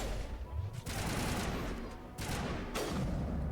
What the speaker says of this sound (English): Garrus, use your sniper rifle.